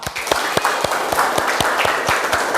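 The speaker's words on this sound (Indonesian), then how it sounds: "Aplaus sekali lagi untuk kita semua" Students and guests at a school event applaud, with a steady patter of many hands clapping in a rapid, even rhythm that lasts throughout the short burst.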